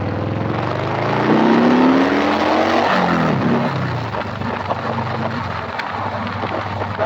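A 2003 Harley-Davidson Sportster, a 100th anniversary edition, accelerates hard up to about 40 mph, its engine note climbing in pitch through the gears before easing off into a steady rumble with wind noise.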